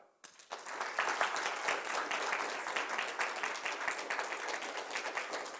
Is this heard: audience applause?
yes